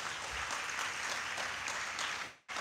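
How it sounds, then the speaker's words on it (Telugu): Sustained audience applause at a public speech during a Catholic feast celebration in Malkapuram, loud and continuous clapping that cuts off abruptly near the end. "అది చప్పట్లు కొట్టండి మరొకసారి"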